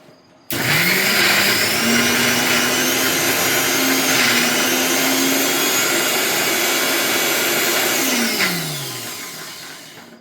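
A mixer grinder grinds masala spices, a loud, close, continuous whirring roar that starts abruptly, holds steady for about eight seconds and then winds down as the motor slows.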